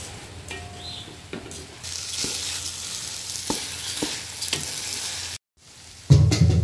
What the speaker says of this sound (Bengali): চাল আর ডালটা, ভেজে রাখা চাল ডাল আমি দিয়ে দিচ্ছি।